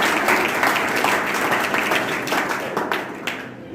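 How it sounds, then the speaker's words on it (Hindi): Crowd at a Sanskrit week closing ceremony in Nagda breaks into applause, a full, even patter of many hands clapping at moderate volume that gradually thins near the end. "ताली बजा दीजिए एक बार आपके लिए।"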